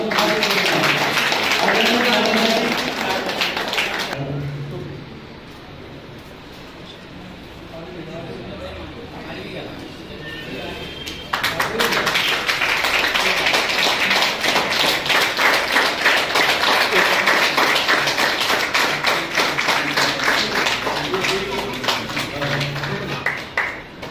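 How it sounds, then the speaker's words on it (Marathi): An audience at a ceremony for a renovated Buddhist vihara breaks into sustained, dense applause, stops while someone speaks, then claps loudly again for a long stretch. "जोरदार टाळी"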